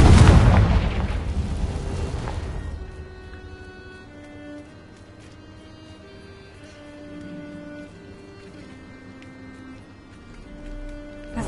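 Confringo blasting spell explosion in the Hogwarts Legacy video game, one loud, close, booming blast that rumbles and decays over about two seconds, followed by quiet, soft sustained musical tones.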